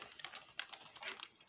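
Fast, light clicking from a cheap $3 computer keyboard, quiet and close, with keystrokes landing in a steady, irregular typing rhythm and no voices.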